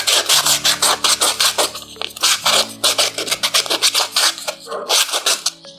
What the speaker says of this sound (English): make sure you have sanded your small circle well